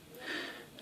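A single drawn breath, a soft airy inhale swelling to a peak midway and trailing off, close and quiet with no talking.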